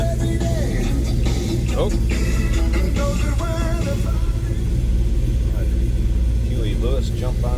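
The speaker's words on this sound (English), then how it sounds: "that EFI system, that's going to fire right up" A 1970 Dodge Challenger R/T with electronic fuel injection sits running, its deep, steady idle rumbling close by beneath people talking and a short exclamation.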